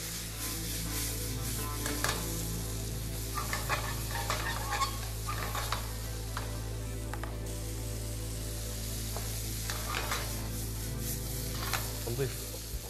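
Vegetables sizzle steadily in a Tefal frying pan, with a continuous frying hiss and scattered scraping clicks of stirring, close and even in level with no talk for the whole stretch.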